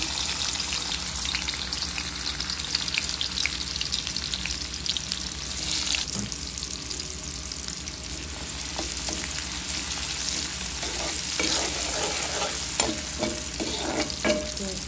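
Garlic frying in oil in a pan gives a continuous dense sizzle, with scraping and stirring clatter joining in the second half, close and alone without talk.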